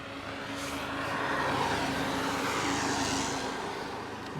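A small camera drone descends to land with a steady, even whirring buzz of its propellers that holds at a constant level throughout, with no voices.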